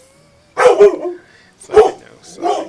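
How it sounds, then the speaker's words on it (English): Dog barking indoors in a room: a couple of sharp, loud barks close by, then a softer yip, mixed in with a person talking. "Sorry, that's my dog."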